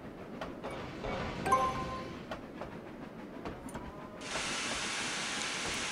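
Steam locomotive in Trainz Railroad Simulator 2019 on the Cornish Mainline, with rolling clatter and wheel clicks, then a loud sustained boiler steam hiss from boiler pressure build-up that starts and continues to the end.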